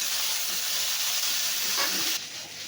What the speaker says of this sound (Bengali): 1/2 চামচ থেকে একটু কম হলুদ গুঁড়ো দিয়ে একটু ভালো করে নেড়ে চেড়ে ভেজে নেওয়া হবে বেগুনটাকে